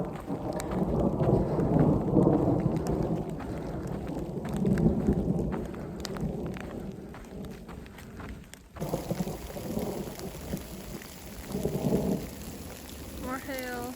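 Heavy rain and hail pelting down with deep rumbles of summer thunder, dense patter on surfaces; a brief muffled voice near the end.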